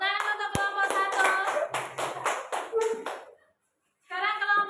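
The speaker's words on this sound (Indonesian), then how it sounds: "Tepuk tangan untuk kelompok 1." Children in a classroom clap for a group in a rhythmic, patterned clapping chant, close and lively, with young voices mixed in; the claps stop briefly, then voices resume.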